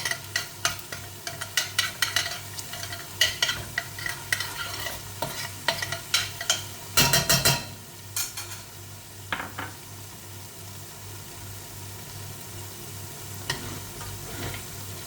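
Garlic and ginger frying in oil kept from frying fish, a soft hiss under quick clinking spoon strokes against the pot in bursts, then a calmer steady sizzle.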